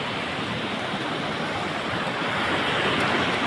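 A broad sea roars continuously near a village fair shore, its waves making a steady dense wash of surf that swells slightly louder toward the end, with no voices.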